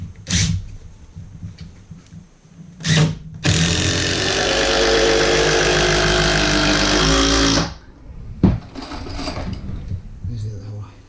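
A power drill whirs loudly for about four seconds as it drives a screw without a pilot hole, with short mechanical buzzes and clicks before and after.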